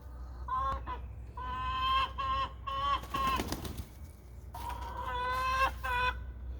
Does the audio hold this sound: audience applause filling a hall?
no